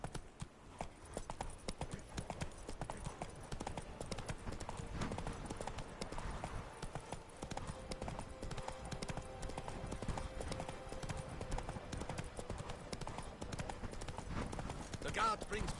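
Roach the horse trotting in The Witcher 3, with a continuous clip-clop of hooves mixed under game music and spoken dialogue.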